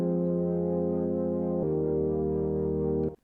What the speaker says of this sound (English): That transition leads us into this labs piano. The serum patch that I've made. A silent pad.